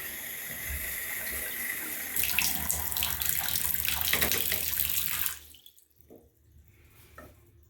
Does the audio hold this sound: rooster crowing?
no